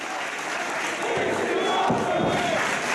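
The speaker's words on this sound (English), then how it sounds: "The crowd here in Westbrook showing their appreciation." Crowd at a live independent wrestling show in Westbrook cheering and calling out in appreciation, a steady, fairly loud roar of voices that swells slightly partway through.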